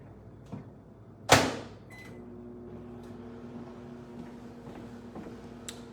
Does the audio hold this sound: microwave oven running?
yes